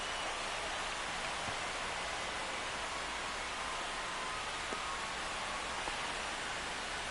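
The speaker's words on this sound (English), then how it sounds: "Yep, and there goes the rain." Steady rain falling on an outdoor air conditioner unit, a constant dense hiss with faint scattered drop ticks, unbroken from start to finish.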